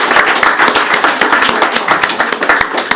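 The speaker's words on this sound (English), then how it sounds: "One more round of applause." Round of applause from a conference audience at a climate finance panel session, dense steady clapping from many hands filling the room, sustained at an even level throughout with no talk over it.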